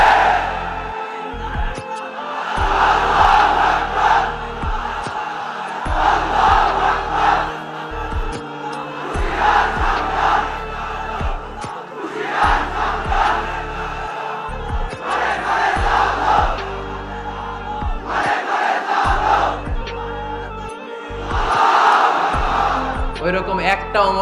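A large audience at a Bengali Islamic sermon shouts back in unison, repeated loud crowd roars rising and falling in waves across the recording, interleaved with the preacher speaking.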